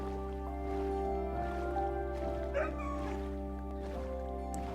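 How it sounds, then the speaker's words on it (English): A dog in the video game Minecraft gives a brief, faint whimper over a steady droning game background. "I guess all the Minecraft dogs now make different sounds."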